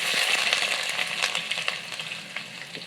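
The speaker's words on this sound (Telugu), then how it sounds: "కొంచెం జీలకర్ర, అది వేగిన తర్వాత ముందుగా నేను ఉల్లిపాయలు" Cumin seeds and onions frying in hot oil in a home kitchen pan, giving a steady loud close-up sizzle with faint stirring scrapes and no talk.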